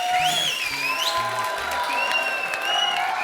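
Applause from a studio audience at a comedy show, a steady patter of clapping heard under a voice and music.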